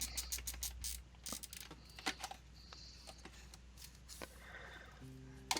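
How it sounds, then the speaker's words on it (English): A plastic container lid being bolted to the bottom of a Super Dust Deputy cyclone on a Harbor Freight dust collector, faint mechanical clicks, ratcheting ticks and small handling taps, close and quiet. "So here I am just bolting it to the bottom of the Super Dust Deputy."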